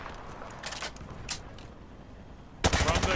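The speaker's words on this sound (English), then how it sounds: "Hit the targets while firing from your hip." A rifle is fired from the hip at targets in Call of Duty: Modern Warfare 2, with a few scattered sharp shots early on and then a loud rapid burst near the end.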